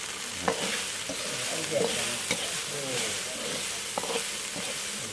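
June beetles frying in a small amount of oil until crisp, with a steady broadband sizzle, occasional stirring scrapes and crackling pops, moderately close and with no talking.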